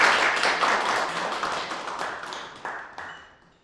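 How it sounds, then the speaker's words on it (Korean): An audience at a Korean urban design leadership course claps to welcome a lecturer on international affairs, a fairly close burst of scattered clapping that thins and fades out over a few seconds. "큰 박수로 맞아주시면 감사하겠습니다."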